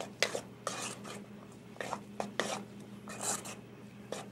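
Kona shrimp being mixed in a bowl, with a series of irregular scraping and clinking strokes of a utensil against the bowl, close and fairly quiet, with no talk.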